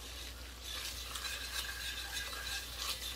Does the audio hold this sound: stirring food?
yes